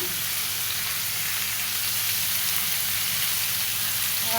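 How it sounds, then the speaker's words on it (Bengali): Drumstick stems and potatoes frying with salt and turmeric in a pan, a dense, even sizzle close by that holds steady throughout without talk. "আর হলুদ দিয়ে ভালো মতো ভেজে নেব"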